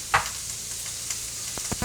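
Carrots and onions browning in a hot pan give off a steady low sizzle with a few louder crackles and pops scattered through it, fairly close and with no talking.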